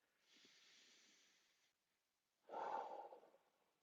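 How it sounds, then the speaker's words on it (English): Slow, deep breathing with two long, soft breaths: a drawn-out airy inhale or exhale, a brief pause, then a stronger, closer breath with a throaty edge. Quiet and close, with no talking. "let's take 3 breaths together."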